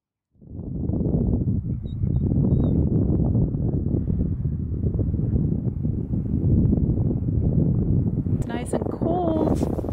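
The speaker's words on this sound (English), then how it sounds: "The wind is a bit chilly." Wind gusts steadily across a microphone outdoors in Svalbard, a loud continuous low rumble with no letup, and a few faint higher tones near the end.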